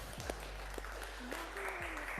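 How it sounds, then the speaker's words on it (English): A fitness class claps at the end of an evening home workout session: a steady patter of clapping lasting a couple of seconds, moderately loud, with faint voices mixed in. "Give yourself a little round of applause, guys."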